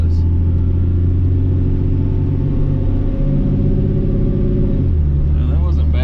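The engine of a wife's truck pulls steadily in first gear, then the pitch drops as it shifts into second, a close continuous rumble with a voice talking over it.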